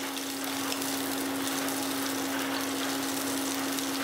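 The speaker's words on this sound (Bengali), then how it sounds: "আমি একটু সর্ষের তেল গরম করে নিয়েছি, দিয়ে দিচ্ছি একটু রসুন কুচি।" Chopped garlic sizzles in hot mustard oil with a steady, close, even hiss. A faint electrical hum runs underneath.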